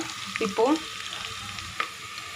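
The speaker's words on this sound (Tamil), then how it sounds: "இஞ்சியை போட்டு பிறகு நல்லா ஃப்ரை பண்ணிக்கோங்க" Ginger and garlic fry in a pan with a steady close sizzle, punctuated early by a brief clatter and a later sharp scrape.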